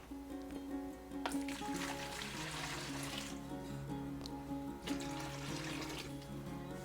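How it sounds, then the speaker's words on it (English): Cold water runs into a gallon-size pitcher for lemonade, a steady, gentle pouring and splashing stream that keeps going at an even, fairly quiet level from start to finish. "So add your 3 to 4 cups of cold water."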